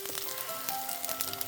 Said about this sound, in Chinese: 慢慢的把另外一面也煎到金黄就可以了